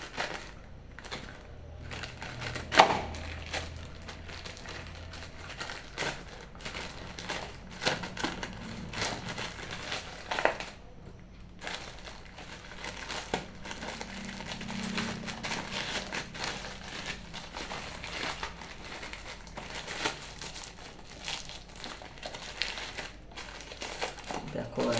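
Plastic packaging for a mobile phone cooler crinkles and crunches as it is cut open, a steady close rustling with sharp snips and crackles scattered throughout.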